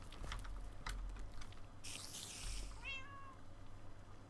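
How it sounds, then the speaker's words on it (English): A cat meows once inside a building in the Minecraft video game, a short gliding call near the end over steady keyboard typing and a low background hum. "Where is the mystery kitty?"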